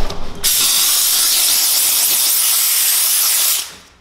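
A steamer blasts a loud, steady hiss from its nozzle while paint protection film is lifted off a car's front bumper, the jet running unbroken for about three seconds before tapering off.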